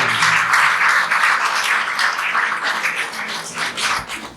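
A crowd claps and cheers for a female school principal at a prize-giving ceremony, dense loud applause that thins out toward the end.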